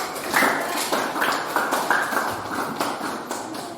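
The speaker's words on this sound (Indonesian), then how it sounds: "Silakan beri aplaus dulu" Students applauding in a classroom, a run of sharp, fairly close claps in a loose, uneven rhythm that keeps going for several seconds.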